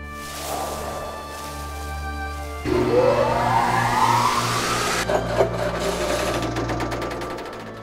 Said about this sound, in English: Sounds like something is wrong with the motor.